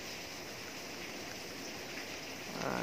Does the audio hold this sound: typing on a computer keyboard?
no